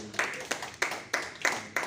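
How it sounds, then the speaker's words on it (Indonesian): Hands clap in a classroom in a slow, spaced rhythm, about seven distinct close claps with reverberant tails and no talk over them. "ayo kita beri tepuk tangan"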